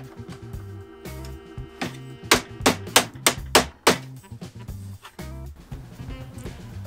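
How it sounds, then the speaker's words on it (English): A mallet taps an oval end cap onto the angled part of an Evolution Rage 5-S during assembly, a burst of about seven sharp close knocks in quick succession between quieter handling sounds. "The oval cap goes on the end of the part that's on an angle, and that's where we're gonna need our mallet."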